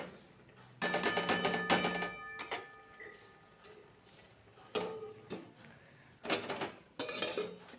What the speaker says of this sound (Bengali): সেই জন্য অল্প একটু জল দেব দিয়ে ঢাকা দিয়ে দেব